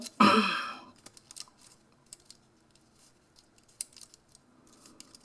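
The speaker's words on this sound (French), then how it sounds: "J'entends le papier qui crépite." Paper crackles while a loaded envelope is crafted by hand: one loud crinkling rustle at the start, then sparse faint crackles and small ticks close by.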